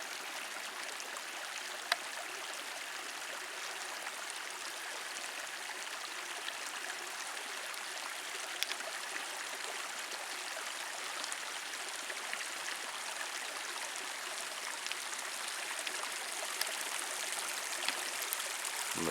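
A mountain stream draining into Bullfrog Lake on the Kearsarge Pass backpacking route rushes in a steady, dense wash of water that runs unbroken the whole time.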